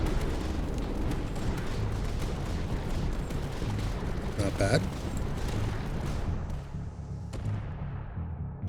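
Sanction cannon firing in the tower defense game Tower Dominion, a dense barrage of heavy booming blasts rolling continuously with one sharper burst midway, fading toward the end, while a voice speaks briefly over it.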